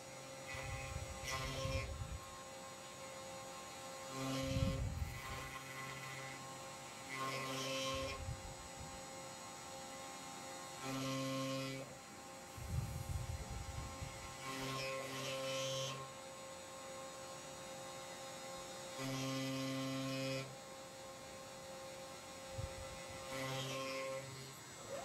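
A CNC machine cuts a ridge from a part with a 3.175 mm (1/8 inch) bit, heard faintly as an intermittent whine and grinding that start and stop in passes over a constant low hum.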